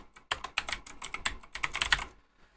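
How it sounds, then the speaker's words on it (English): Quick burst of typing on a computer keyboard, close and crisp, with rapid key clicks for about two seconds before stopping. "Let's type congratulations here."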